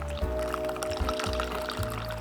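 Water pours steadily into a bowl of takoyaki batter, a close, continuous liquid splash and gurgle lasting a couple of seconds with no speech.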